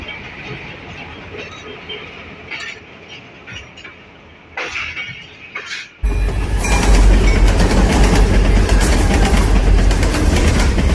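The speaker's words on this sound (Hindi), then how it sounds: "आज की वीडियो में मैं सफ़र कर रहा हूँ 38 डाउन फरीद एक्सप्रेस पर, जो लाहौर से कराची के दरमियान चलती है।" The 38 Down Fareed Express passenger train, running from Lahore toward Karachi via Kasur and Pakpattan, goes from a quieter interior hum to a sudden loud, close, rumbling roar with steady clickety-clack of wheels on rails.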